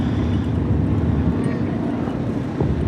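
Aerobatic airplane rolling during an airshow performance, a continuous broad engine and propeller drone heard from a distance, steady and moderately loud with wind buffeting the microphone.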